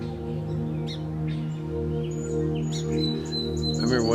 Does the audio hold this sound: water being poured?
no